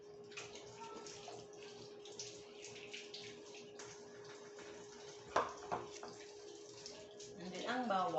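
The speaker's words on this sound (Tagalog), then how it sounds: "bago natin lulutuin, kailangan natin hugasan lahat" Onions and garlic are rinsed under a running kitchen tap, a steady low water rush with a few louder splashes and a burst of sloshing near the end, close by.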